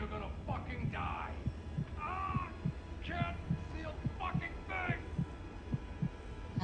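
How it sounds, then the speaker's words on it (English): Heartbeat from the Outlast Trials horror game, a steady thumping pulse of about two beats per second, running beneath a player talking and eerie ambient game sound. "the heartbeat is getting a lot louder in my ears"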